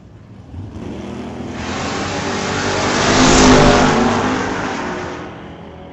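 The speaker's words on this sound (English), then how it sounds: "Top end, it's Dave Stobie getting there first. 1071, 119 miles an hour in the Corvette" A Corvette launches down the strip at an old-time drag race in Langley, its engine roar swelling as it accelerates hard and passes close, peaking loudly before fading slightly, with no talk.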